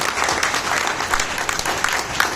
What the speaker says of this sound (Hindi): सबसे ज्यादा तालियां होनी चाहिए उत्तर प्रदेश के साथियों की।